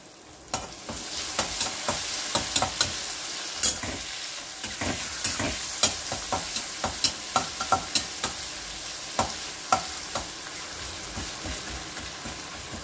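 Onion fries in a pan for a fish-head muri ghonto, a steady hissing sizzle broken by frequent crisp scrapes and taps of a spatula stirring, close and loud without any talking.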